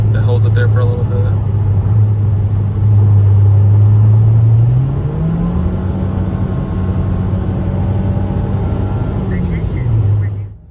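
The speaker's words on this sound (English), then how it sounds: "Just flick the gas pedal. It holds it there for a little bit." Car engine inside the cabin, held at higher revs after a flick of the gas pedal, a steady droning rumble that steps up in pitch midway and holds, then fades out, with someone talking over it.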